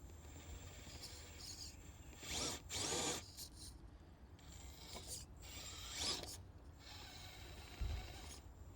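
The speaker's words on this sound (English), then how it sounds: "I'm so impressed with the brushless motor system in this" The brushless motor of an FMS FCX18 Sierra RC crawler whirs and whines in bursts, rising and falling as it drives, with gear noise and scrabbling tires, close and moderately loud.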